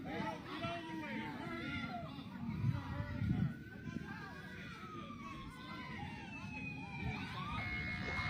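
Emergency vehicle sirens wail at a street protest in Worcester, with long rising and falling tones carrying over constant crowd chatter and voices nearby.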